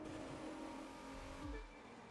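A Noble sports car engine in a racing video game, revving steadily at a high pitch, then dropping suddenly into a low growl as the revs fall away near the end.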